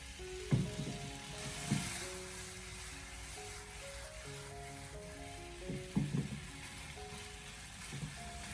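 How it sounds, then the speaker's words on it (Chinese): Pork liver stir-fried in a wok over high heat gives a soft, steady sizzle with a few louder bursts of tossing and scraping, heard close but fairly faint throughout. "把它快速的进行翻炒，把它翻炒均匀，把猪肝给它炒出锅气"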